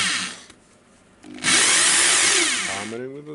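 A Hitachi DH22PH rotary hammer drill starts up loud and close, running steadily for over a second before winding down, after a brief whir and quiet pause.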